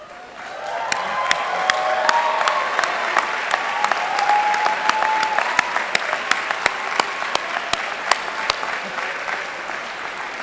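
A university commencement crowd applauds and cheers alumni, loud sustained clapping that builds after a quiet start, with scattered whoops and sharp individual claps cutting through the din.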